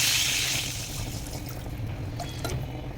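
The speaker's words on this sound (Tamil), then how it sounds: "இப்போ இதே பேனில் தண்ணி கொஞ்சம் ஊற்றிடலாம்." Water is poured into a cooking pan for an ash gourd and chana dal dish; a steady splashing pour starts loud, then settles into a softer trickle with a few drips, heard alone at close range.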